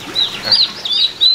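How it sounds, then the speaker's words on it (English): Young turkeys give high, thin peeping calls in quick bursts close by, several overlapping chirps over a short moment, with no talk. "We got turkeys."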